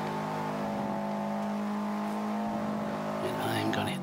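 Engine of a 2005 Subaru WRX converted from all-wheel to rear-wheel drive, racing in Forza 5, a sustained loud drone holding steady throughout, rising slightly near the end.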